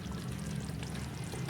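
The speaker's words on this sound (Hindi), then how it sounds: "अब इसमें काजू और बादाम का जो पेस्ट मैंने पानी डालकर जो ग्राइंड कर लिया था वो सारा मैं इसमें डाल रही हूँ" Ground cashew and almond paste mixed with water is poured into a pot of chicken qorma, giving a steady soft wet pouring hiss that runs close and even throughout.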